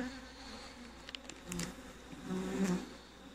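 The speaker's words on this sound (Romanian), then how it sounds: "Și vedeți, și acolo este albina în hrănitor." Honeybees buzz steadily inside a hive feeder in winter, a soft continuous drone with a few nearer, louder passes swelling and fading. No one speaks.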